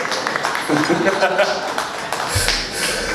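An audience at the Luton Mela Talent Quest 2019 final applauds the judges with a dense, continuous wash of clapping, and a voice talks over it throughout.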